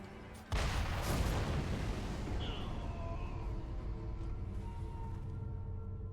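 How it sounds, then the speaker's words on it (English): Cannon firing in the video game Sekiro, a sudden loud boom followed by a long rumbling roar and crackling debris that fades slowly, with faint game effects in the background. "I like how he fired a cannon twice without reloading it."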